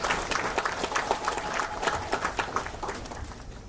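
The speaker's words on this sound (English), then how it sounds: "we all would like to have a good clap to JSS." A conference audience claps together, a dense, even wash of hand claps from a sizable crowd, moderately loud and continuous.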